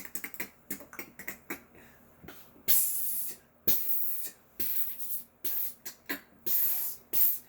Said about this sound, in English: go a little bit more spray paint. Make sure it's black.